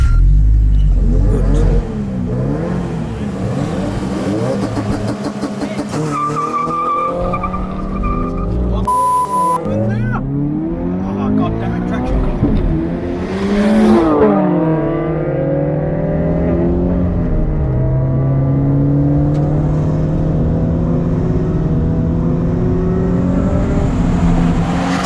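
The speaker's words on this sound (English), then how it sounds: "So I'm going to try and use this and get a better launch and hopefully try and beat him down the drag race." A car launches hard in a drag race with traction control off, its engine revving loudly through rising gear sweeps with tire squeal, close and sustained for about twenty-five seconds.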